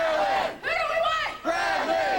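A crowd at a political rally for Al Gore chants and cheers in loud, sustained, rising shouts. The bursts come in three waves separated by short breaks.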